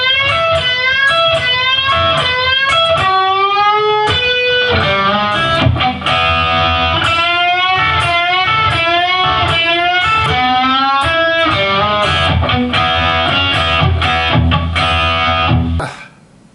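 A distorted electric guitar plays a continuous lead line with sliding, bending notes, bending up on the second string and hitting the first, over a full backing band, loud and steady before stopping abruptly.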